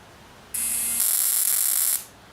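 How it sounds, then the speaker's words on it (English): A sharp, high electrical buzz from an old engine's ignition coil sending spark to the plug switches on abruptly, holds steady and loud for about a second and a half, then cuts off. "when you're hearing that buzzing, it's sending power from the coil"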